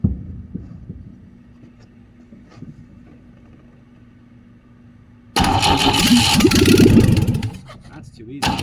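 A Volvo B20B engine, primed with sprayed starting fluid, cranks and fires into a loud, rough run for about two seconds before cutting out, following quiet clicks and handling noises.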